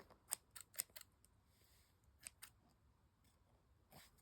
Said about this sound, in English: I hate scissors that don't actually cut.